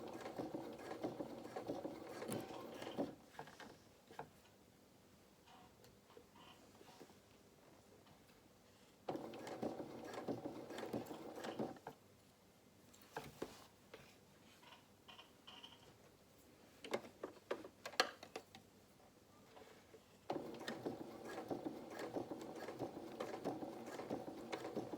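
A home sewing machine stitches around the pocket of a pair of dungarees in steady whirring bursts of several seconds, with quieter pauses and small clicks and handling noises between runs.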